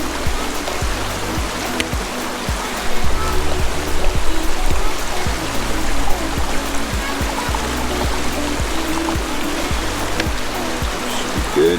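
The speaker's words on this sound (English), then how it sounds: "And then I add water, just a little bit above it." Water is poured into a food container for cold soaking on a hike in Glacier National Park. It makes a steady, close rushing trickle that lasts the whole stretch, with small clicks and knocks scattered through it.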